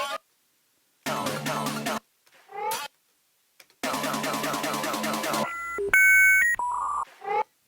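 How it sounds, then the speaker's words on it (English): A dial-up modem connection sound comes through in bursts, with tones and beeps layered over harsh screechy noise, separated by short gaps. It is fairly close and clear, and a voice speaks briefly. "Wasn't there like a little dial-up sound?"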